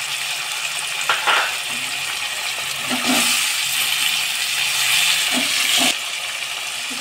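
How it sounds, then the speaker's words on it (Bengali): Chopped onion dropped into hot oil already holding dried red chillies and bay leaves, giving a steady loud hiss and sizzle with a few clattering stirs, for a Bengali lau ghonto and prawn malaikari. "তেলটা গরম হয়ে গেছে, এখন কুচুনো পেঁয়াজটা দিলাম।"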